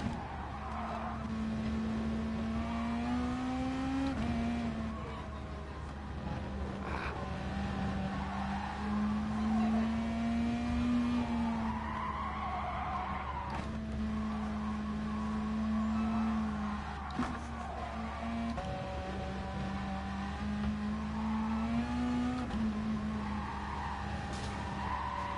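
A racing video game car engine drones steadily with rising and falling pitch as gears shift, joined by repeated tire squeal and skidding through the corners, continuous and fairly loud with no talking.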